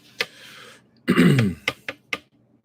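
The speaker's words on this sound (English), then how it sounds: "I should actually clear my throat before I start doing videos." A single close throat clearing, a short rough rasp followed by a few small clicks and breaths in a quiet room.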